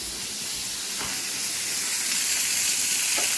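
Fish frying hard over a high gas flame gives off a loud, steady hiss with a couple of sharp pops breaking through.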